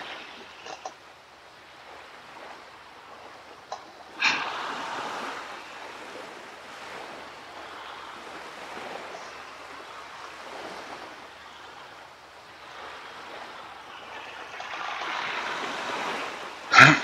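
Sea waves during a six-day voyage towards Lisbon, a steady low wash of surf and water rushing past the hull, swelling louder around the middle and again near the end, with no voices.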